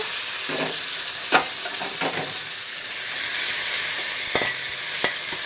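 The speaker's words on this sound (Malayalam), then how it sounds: "ഇതൊന്ന് വഴറ്റിയെടുക്കണം" Onion, kanthari chili and crushed garlic sauté in coconut oil, giving a steady close sizzle with a few sharp clicks and spatula scrapes scattered through it.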